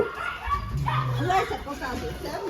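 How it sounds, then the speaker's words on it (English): Small dogs yip and bark in quick bursts close by while people talk over them. "Here's the small dogs."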